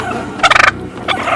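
A flock of wild turkeys gobbles outdoors: one loud, close, rapid warbling burst, a brief pause, then a second shorter gobble over a low background hum.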